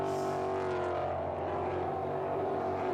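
Ford Mustang race cars in the IMSA Mustang Challenge at VIR in Alton, Virginia, give off a loud sustained engine drone with a buzzing rasp that stays at an even level, without clear gear changes.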